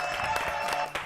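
Studio cabaret audience on a French TV show applauding a guest musician, a short bright patter of clapping over a sustained musical tone, mid-level and brief.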